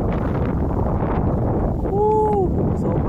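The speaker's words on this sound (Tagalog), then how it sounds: "Sobrang lakas ng hangin guys" Strong, cold wind at a Korean palace buffets the microphone in a constant low roar, with a brief rising-and-falling whistle-like tone partway through.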